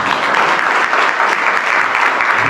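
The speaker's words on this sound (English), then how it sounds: "Let's give him a round of applause." Steady, dense applause from a sheriff candidates' forum audience, loud and continuous throughout with no talk over it.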